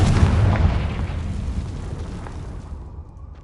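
A Confringo blasting spell explodes in Hogwarts Legacy, a loud booming burst at the start that rolls and decays over about three seconds, with no talk over it.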